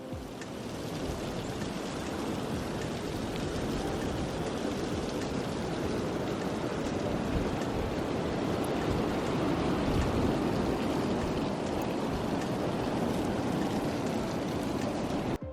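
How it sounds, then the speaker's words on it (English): Sea waves wash steadily onto a beach below sea cliffs in Wales, a continuous broad rushing roar with no breaks or voices, close and fairly loud throughout. "we could have been there for hours just listening to the waves"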